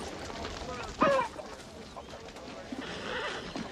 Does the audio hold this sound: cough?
no